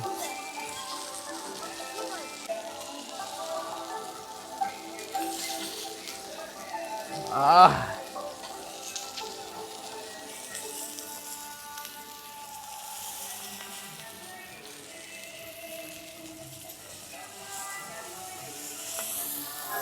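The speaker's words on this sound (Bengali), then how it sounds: "মাছের তেলে মাছ ভাজি মাছের তেলে মাছ ভাজি দেখুন" Whole Padma hilsa fish frying in its own oil, giving a steady, fairly quiet sizzle throughout, with voices and other background sound over it.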